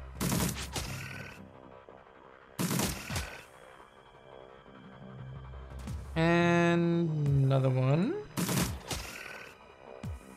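Gunshots in Shadowrun Returns, a few loud, sharp bursts spaced a couple of seconds apart, with a rising electronic hum between them and no talking.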